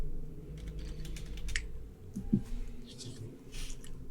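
Quick tapping on a computer keyboard, a soft irregular patter of key presses in short bursts, close and quiet over a low room hum.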